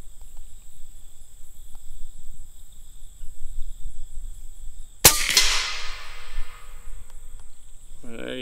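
A single sharp crack from a GAMO TC45 or TC35 air rifle firing a pellet outdoors, followed by a short ringing decay, with insects chirping steadily in the background.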